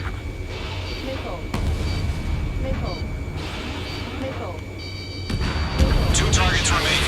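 Missile launches and explosions in the Ace Combat 7 combat flight game burst out several times as sharp booms over a roaring jet engine, with a pilot's voice speaking across the action.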